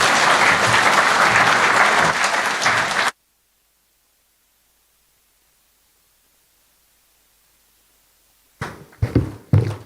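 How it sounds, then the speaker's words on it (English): Convention audience at the 2024 ICP World Convention applauding, a dense burst of clapping that cuts off abruptly, then a long silence before a few scattered claps resume. "Another round of applause to His Excellency, the Prime Cabinet Secretary."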